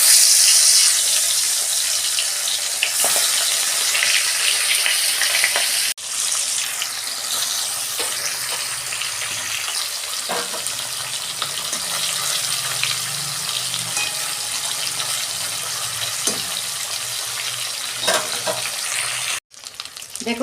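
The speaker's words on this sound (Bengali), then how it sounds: "এই যে তেল গরম হয়ে গেছে, আমি মাছটা দিয়ে দিচ্ছি।" Amudi fish frying in hot mustard oil in a wok, a loud dense sizzle that runs steadily throughout, close up, with a few scrapes and a brief dip near the start and end.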